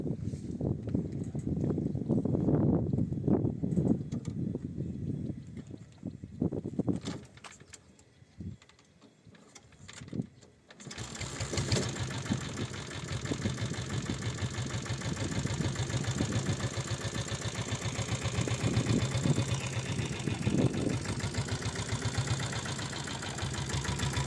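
A 7.5 HP diesel Bullet motorcycle engine cranks with a few uneven bursts, then catches and settles into a steady, loud, thumping diesel idle close by.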